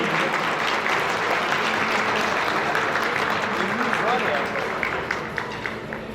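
An audience applauds at a municipal award ceremony honouring Sincan's mayor, the clapping a thick continuous roar that thins slightly toward the end, with a voice faintly beneath it.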